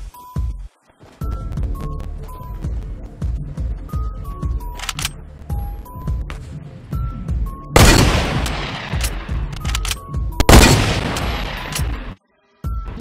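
A drum gun fires in Fortnite in rapid, loud bursts of gunshots, with two especially heavy volleys and short gaps between them, layered over game sound effects.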